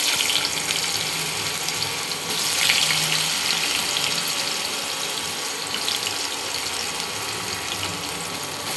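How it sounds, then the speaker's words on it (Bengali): Green banana slices sizzle steadily in hot oil with cumin seeds in a pan, a continuous loud hiss and crackle throughout, without any talk. "এবার আমি এই কাঁচকলাগুলো এই জিরে ভাজার মধ্যে তেলের মধ্যে ছেড়ে দেবো"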